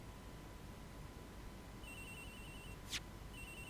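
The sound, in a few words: phone ringing in video game Ace Attorney Investigations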